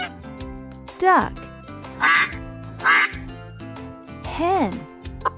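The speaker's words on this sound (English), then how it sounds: "Duck." A farm duck quacks several times in a loose, uneven series, loud and close, with other sounds in between.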